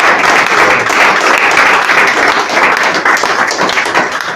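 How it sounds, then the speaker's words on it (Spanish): A church congregation breaks into loud, sustained applause for the Lord, a thick, continuous roar of many hands clapping close by for over four seconds. "Damos un aplauso al Señor."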